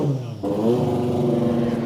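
Engine of a 500 bhp classic Ford Mustang race car idling close by, a loud steady rumble with an uneven, lumpy beat suggesting a dead cylinder, running continuously throughout.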